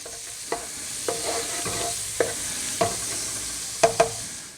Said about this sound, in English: I'll get my butter into the pan and get that melting